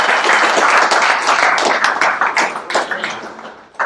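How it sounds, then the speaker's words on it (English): Audience applause at a tech meetup as a speaker is introduced, dense steady clapping from a crowd that stays loud for about three seconds before thinning into scattered claps and fading near the end. "Round of applause."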